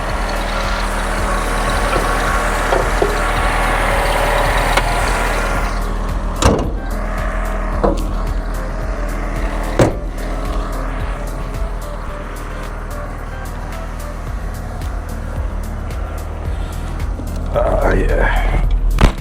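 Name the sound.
truck being driven away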